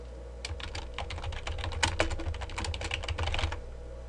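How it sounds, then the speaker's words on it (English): Rapid clicking of keys on a computer keyboard as text is typed into mapping software, a steady run of close, crisp keystrokes with no voices. "Type in the text"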